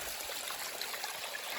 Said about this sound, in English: An excellent example of the trail turning to a little waterfall and or river